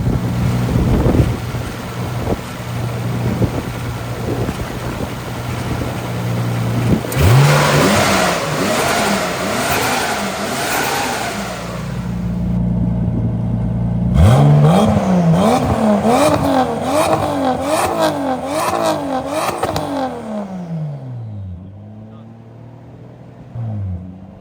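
A Nissan RB25DET with a tubular turbo manifold fires up for its first start, cranking and then revving in repeated rising and falling bursts, loud and close, with wind noise buffeting the microphone.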